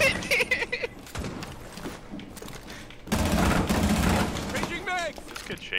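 Gunfire in the video game Rainbow Six: scattered shots early on, then a dense, loud volley of rapid fire in the middle, heard amid busy game noise with people talking over it.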